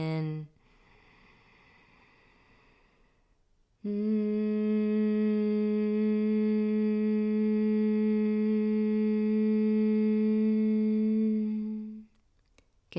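Soft humming on the exhale during a guided breathing exercise, a steady sustained low hum lasting about eight seconds after a quieter breath, close and alone.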